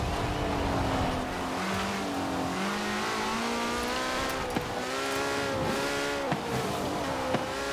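A Porsche 918 drifts on a wet track in the Forza Horizon racing game, its engine revving in rising and falling pitch sweeps as it accelerates and shifts, loud and continuous with rain and tire hiss underneath.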